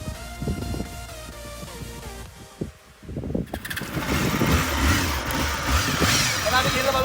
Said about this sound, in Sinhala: මේ ඔරිජිනල් කෑන් එක තියෙන මේ හොනට් බයික් එකේ සද්ද කොහමද කියලා